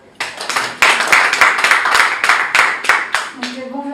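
Applause breaks out at a Werrason press conference in a crowded room, many hands clapping loudly and steadily for a few seconds before a voice starts up near the end.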